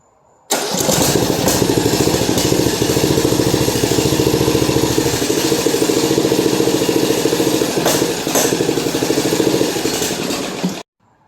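A lawn mower engine that sat unused for a year starts abruptly and runs loud and steady at a fast idle with a rapid buzzing pulse, then cuts off suddenly after about ten seconds.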